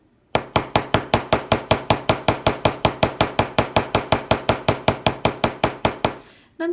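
A ball peen hammer strikes ear wire on a steel bench block about twenty-six times in a steady, fast rhythm, each blow a bright metallic ping with a short ring, moderate in force and close up, ending in silence.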